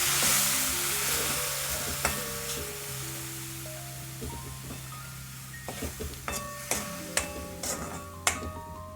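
Pizza sauce simmering with vegetable stock in a pan, a continuous soft sizzle and bubbling close up, joined later by a series of light ticks and clinks from a utensil against the pot.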